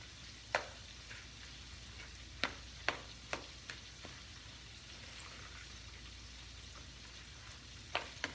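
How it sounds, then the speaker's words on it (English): A fork clicks and scrapes against a bowl of coleslaw in a handful of sharp, separate taps spread over several seconds, quiet and close against a faint steady background hiss. "Now I'm going to just take a fork and stir it in the slaw to get it mixed in"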